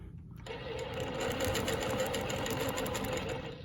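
A longarm quilting machine stitching a Baptist fan pattern runs at a steady, close, loud rhythmic whir after a brief quiet start, sustained with no talk.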